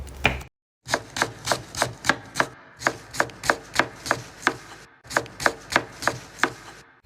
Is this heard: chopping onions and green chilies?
yes